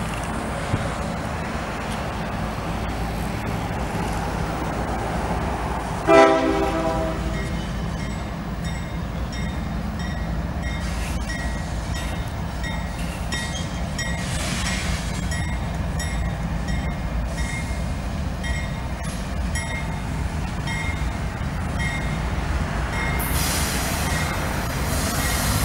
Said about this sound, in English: CSX racing out of the Connellsville yard.